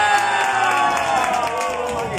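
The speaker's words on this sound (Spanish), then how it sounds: "Un fuerte aplauso para esta pareja que está estrenando casa." Party guests at a birthday celebration applauding and cheering for a couple with a new house, steady loud clapping with whoops and crowd noise over music throughout.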